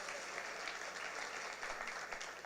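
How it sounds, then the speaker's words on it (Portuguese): Church congregation applauding during a service, a steady wash of many hands clapping together at a moderate distance, even and unbroken, with no talk over it. "aplauda o Senhor"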